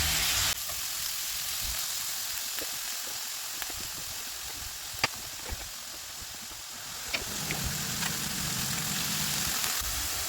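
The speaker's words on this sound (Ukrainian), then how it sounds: "на сковорідку додаю цибулю та часник і обсмажую до м'якості" Onion and garlic fry in a pan with a steady hiss and crackling sizzle, scattered small pops breaking through a soft, continuous frying texture.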